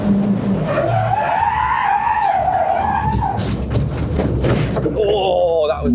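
A race car skids hard with squealing tires during a sketchy time attack lap at Cadwell Park, ending in a shunt; the loud, continuous tire scrub and engine roar sit close, with a voice shouting over them.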